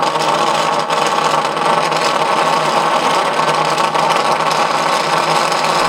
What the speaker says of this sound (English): I'm going to put this identical gear on the motor and show you how fast it spins.